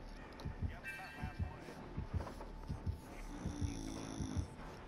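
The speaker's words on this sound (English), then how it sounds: "I'm just trying to get away from my heartbeat." Heartbeat thumps from the horror game Dead by Daylight, a steady low double-beat pulse repeating throughout, with people talking over it and faint game sounds behind.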